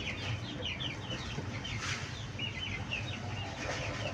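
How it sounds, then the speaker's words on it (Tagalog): Backyard chickens cluck in short bursts while they run about, the calls fairly faint over steady background noise, with no talk. "Yun yung mga manok natin."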